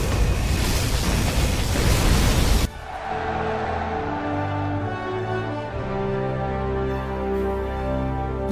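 A particle cannon fires in C&C Generals Zero Hour: a loud, broad roaring blast cuts off sharply and gives way to a sustained, tonal electronic hum with drifting harmonics that lingers to the end.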